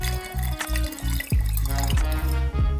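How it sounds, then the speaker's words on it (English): Liquid film developer, part A, is poured into a bottle with a steady run of rhythmic glugs and splashes, close up and fairly loud, with no voices. "I'm just gonna pour it in and shake the bottle up a little bit because I can't really stir it."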